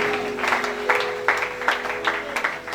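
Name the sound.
church congregation applauding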